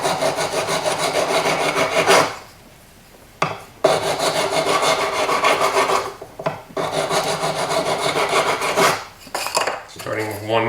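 Sterling silver cuff bracelet being sanded by hand with sandpaper, coarse grit then finer, giving a loud continuous rasping scrape in long strokes broken by a few short pauses.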